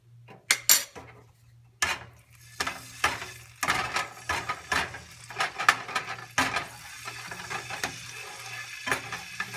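Metal utensil scraping and clinking in a 10-inch skillet while garlic is stirred in two tablespoons of olive oil over medium heat, irregular close scrapes and taps with a faint steady hum beneath.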